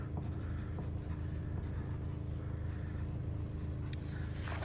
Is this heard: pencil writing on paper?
yes